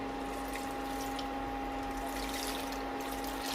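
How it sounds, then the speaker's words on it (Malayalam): Coconut milk pours into a pot of chicken curry in a continuous, even liquid rush, close and steady for a few seconds, over a faint constant hum. "ഇതിലേക്ക് നമുക്ക് തേങ്ങാപ്പാൽ ഒഴിച്ചു കൊടുക്കാം."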